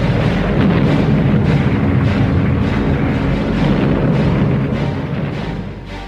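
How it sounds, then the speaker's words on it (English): Bombs dropped during the 1941 Luftwaffe bombing of Moscow, heard in archival footage as a continuous, dense roar of heavy rumbling explosions and booms that stays loud throughout before easing slightly at the end. "bombing of the city started"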